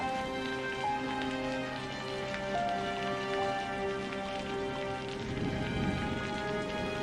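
Heavy rain in a cartoon story, steady pattering downpour at low level under a sustained musical background tone.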